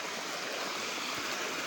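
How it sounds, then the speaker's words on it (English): Water rushes steadily down a stream near a campsite, a dense continuous roar close by with no breaks and no voices. "Got all that water rushing off, and it comes from up toward there."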